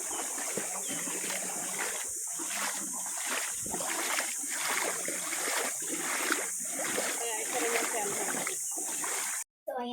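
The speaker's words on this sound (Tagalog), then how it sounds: "ipaparinig ko sa inyo ang tunog ng tubig na aking dinadaanan." Clear stream water splashing and sloshing around wading feet near a waterfall, a steady close rushing with repeated step-like surges throughout, brief dropout near the end; faint voice in the background.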